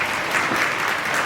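Audience clapping at a school kids fest, a dense, steady burst of applause from a crowd, loud and continuous, with no other sounds standing out.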